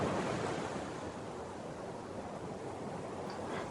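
Sea waves roll and break continuously at Cherai Beach in Kerala, a steady broadband wash of surf with some wind, no voices.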